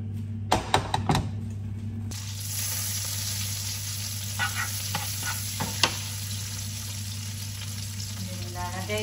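Butter sizzles steadily in a hot pan, a bright constant hiss that begins just after a few sharp clatters, with light stirring clicks heard later.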